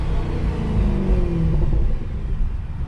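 The 6.2 V8 of a Mercedes C63 AMG rumbles through its exhaust in a steady, deep drone that eases slightly near the end. It is close and continuous, with no talk.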